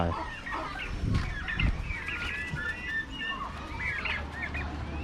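Chickens clucking and squawking close by, several birds calling over one another with a low background rumble.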